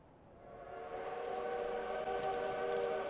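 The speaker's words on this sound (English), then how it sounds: "Looks like a train is here." A train in the video game Tick Tock approaches from the distance, a low rumble swelling steadily over about three seconds with a faint tonal hum and light clattering toward the end.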